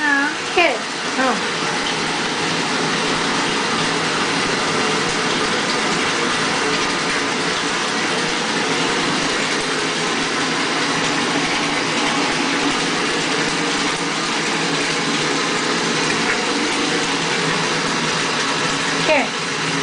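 Water gushes and splashes steadily in a bathtub where a child plays, a continuous loud rush with occasional splashes, and voices talk over it.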